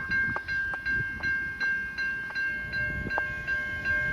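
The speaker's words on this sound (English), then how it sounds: "Oh yeah, I heard the train horn. It's coming right now." At the Ferris Road level crossing in Cobblebank, Victoria, the crossing bells ring in a steady, regular rhythm over a sustained tone as an approaching train rumbles closer, with no voices.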